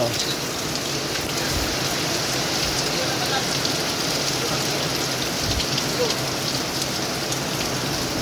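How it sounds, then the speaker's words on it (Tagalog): Steady, heavy rain pattering on surfaces, a dense continuous hiss that holds evenly throughout without pause. "Umuulan na lahat-lahat."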